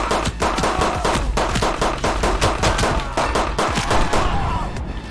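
Rapid gunfire in the brawler game Midnight Fight Express, a dense run of sharp loud shots in quick bursts with thuds underneath, continuing for several seconds.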